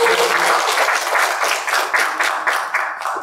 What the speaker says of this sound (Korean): 박수로 한번 맞아주십시오.